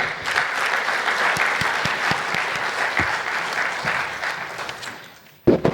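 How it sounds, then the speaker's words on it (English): Audience applause welcoming speakers at a tax seminar, steady and moderately dense with sharp individual claps, tapering off near the end before a brief loud clatter. "Can we have one more bigger round of applause?"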